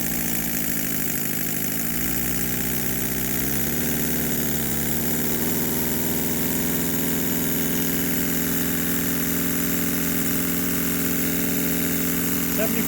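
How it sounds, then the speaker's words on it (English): A twin-cylinder marine steam engine, run on air, runs without its flyball governor, giving a steady mechanical hum with layered low tones that shift in pitch during the first few seconds before settling into an even, continuous drone. "I'll run it without the governor attached, and then run it with the governor attached."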